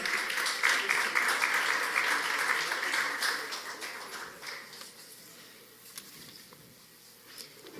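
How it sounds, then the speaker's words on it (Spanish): An audience at a business forum applauds to welcome a panelist onto the stage, a dense sustained clapping that holds strong for several seconds and then thins out and fades, with faint voices underneath. "Un fuerte aplauso para recibir como panelista al señor Luis Calaf Sánchez."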